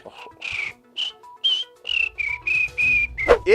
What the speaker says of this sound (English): Did I show you my new whistle?